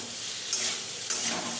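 Paneer fries in oil seasoned with turmeric and salt, giving a steady close sizzle broken by two brief, louder spitting bursts.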